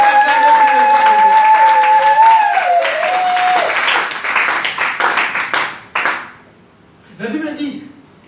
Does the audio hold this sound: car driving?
no